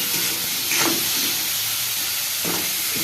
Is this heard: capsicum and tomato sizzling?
yes